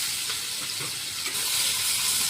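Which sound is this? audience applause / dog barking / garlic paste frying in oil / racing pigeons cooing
garlic paste frying in oil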